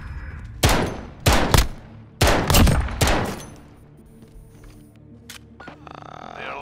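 Gunshots ring out in a shooter video game: several loud, sharp bursts close together in the first half, then fading into quieter ambient game noise with a few faint pops.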